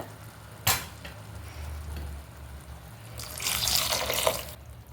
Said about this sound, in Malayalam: കുറച്ചും കൂടി വെള്ളം ഒഴിച്ചു കൊടുക്കണം കേട്ടോ